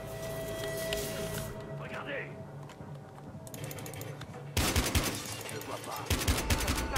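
Gunfire in the PC shooter Battlefield Hardline, with bursts of rapid shots and sharp cracks growing louder toward the end, heard under ongoing speech.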